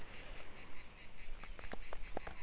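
Crickets chirp outdoors in steady overlapping trills alongside wind noise, with a few sharper, nearer chirps standing out over the continuous insect chorus.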